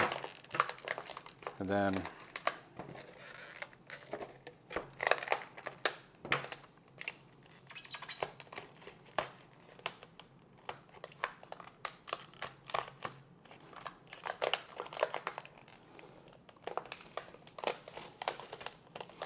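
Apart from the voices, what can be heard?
cutting open plastic packaging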